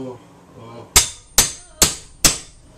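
Four sharp, evenly spaced hammer blows ring out close and loud during a kitchen demolition, preceded by a brief voice.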